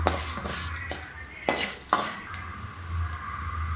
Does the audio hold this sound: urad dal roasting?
yes